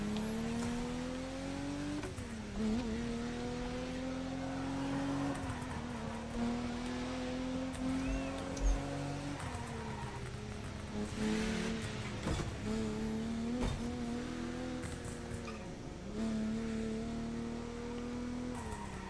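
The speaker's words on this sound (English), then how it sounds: "Oh my God, what am I driving? I'm driving James Bond" A James Bond car races in The Crew Motorfest video game, its engine droning steadily and shifting pitch through gear changes, with brief tire squeals and no talk.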